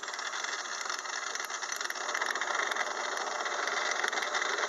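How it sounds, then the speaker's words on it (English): A gear cutting attachment on a 6 inch lathe mills teeth into a gear blank, a steady loud machine drone with a hissing, grinding edge that holds constant throughout, without speech. "I want to make sure that the cutter passes all the way through the gear blank and makes a good job of cutting the gear."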